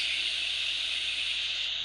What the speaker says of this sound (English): I don't know where the man is frying a fish